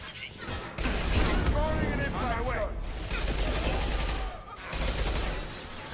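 Sustained bursts of gunfire from a recoiling gun in the video game Mass Effect 2, a dense, loud rattle lasting several seconds with brief gaps. A player talks over the shooting.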